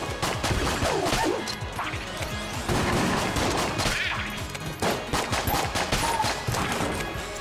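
Dense, continuous video-game gunfire from Enter the Gungeon, with rapid pistol shots mixed into crashing impacts and chaotic combat effects, loud and unbroken throughout.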